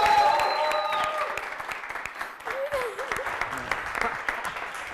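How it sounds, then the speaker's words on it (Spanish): Audience applause closes a student-made late-night TV show, clapping from the crowd continuing steadily while a voice speaks over it and brief music sounds at the start. "Hasta la próxima, un fuerte aplauso."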